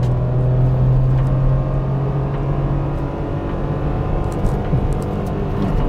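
A 2024 Renault Kwid city car's engine pulls hard at full throttle, a steady close-up drone with a strong low tone that holds through the clip as the car works up through short-ratio gears.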